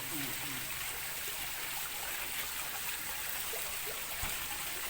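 Steady, close rush of water splashing down from a pipe-fed waterfall in a continuous stream, with faint voices underneath.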